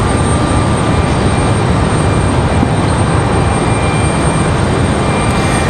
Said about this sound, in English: Republic Airways turning on final.